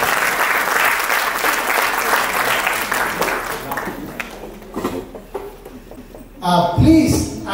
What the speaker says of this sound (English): Give another big round of applause to yourself.